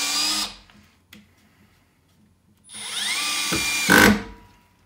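A Milwaukee M12 1/2-inch hammer drill/driver spins up and drives drywall screws: a short whine that winds down, a pause with a faint tap, then a longer rising motor whir ending in a louder burst, close up.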